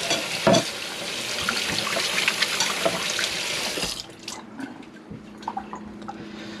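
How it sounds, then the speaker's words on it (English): Running kitchen tap water splashes steadily while hands are washed under it, close and continuous, before the flow stops and a few light drips and clatters follow. "Should wash my hands."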